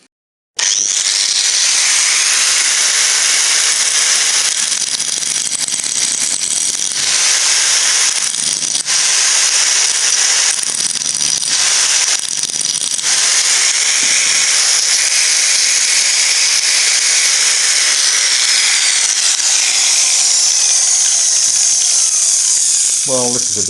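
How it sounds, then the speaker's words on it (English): An angle grinder fitted with an old disc grinds a groove into a cast iron manifold, a loud, continuous high-pitched metallic shriek and hiss close up, with brief dips as the disc eases off the iron. "I think I will just use an old grinding disc and an angle grinder."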